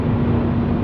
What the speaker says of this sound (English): I want to hear that car.